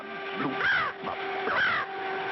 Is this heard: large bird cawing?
yes